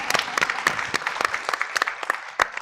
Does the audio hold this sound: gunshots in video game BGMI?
no